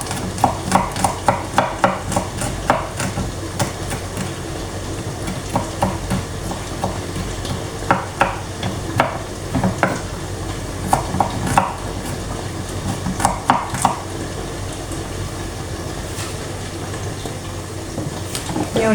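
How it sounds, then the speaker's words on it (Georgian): Vegetables, including green chili, finely chopped with a knife on a board in a home kitchen: quick bursts of close, rhythmic chops separated by short pauses, with no talking. "ეხლა წვრილად დავჭრა"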